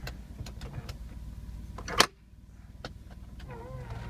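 A convertible soft top on a Toyota Camry retracts under power, a quiet motor whirring with small clicks, one sharp latch clunk near the middle, then the hum resumes softly.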